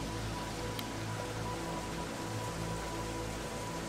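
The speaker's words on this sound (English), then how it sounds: "Is it raining?" Steady rain in the horror game Pineview Drive, a dense, constant hiss of falling drops that stays even and moderately loud throughout, with no talking.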